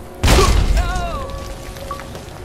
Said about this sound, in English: And that something is a grenade that's about to blow up.